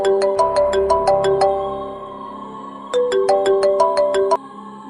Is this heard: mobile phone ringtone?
yes